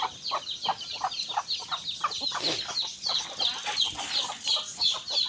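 Free-range hens and chicks cluck and chatter at afternoon feeding in a rapid, continuous stream of short calls, close by and busy, with no people talking.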